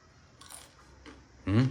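A few crisp crunching bites into a brittle sabudana thalipeeth flatbread, with a louder, closer crunch at the end; no talking.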